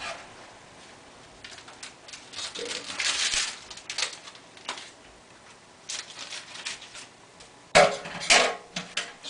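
Turbo yeast from Mile Hi Distilling being sprinkled into a mash while it is stirred: soft scraping, rustling and light clinking strokes come in irregular bursts, fairly quiet and close.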